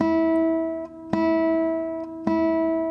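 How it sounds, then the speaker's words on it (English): A single classical guitar note is plucked three times with the fingernail, each attack sharp and bright, ringing on with a steady sustained tone between plucks. "it's the angle of the nail and the position on the string that gives the different colour"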